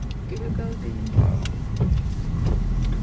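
A car drives on a rainy day, its steady interior road and engine rumble running underneath conversation from people inside.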